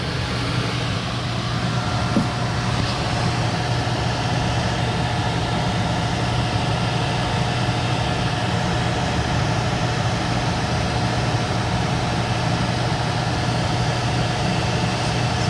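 A home AC system's blower motor runs with a steady, even hum and airflow noise, constant and fairly loud for the whole stretch, with no voices.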